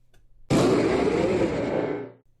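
Mega Latios, the Eon Pokémon from the Pokémon video game, gives its cry: a sudden loud roaring burst with reverb that holds for about a second and a half, then cuts off into quiet.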